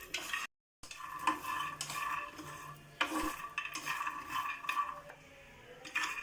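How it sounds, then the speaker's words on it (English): A cup of peanuts roasting in a pan over a low flame, stirred with a utensil, giving repeated rattling scrapes and light clinks over a soft sizzle, close by and steady, with one brief dropout near the start. "Take 1 cup of peanuts and let us roast 2 to 3 minutes in low flame."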